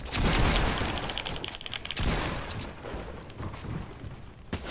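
Gunfire from the Fortnite video game comes in dense, rapid bursts of loud shots that fire almost continuously, with sharp cracks landing near two and four and a half seconds.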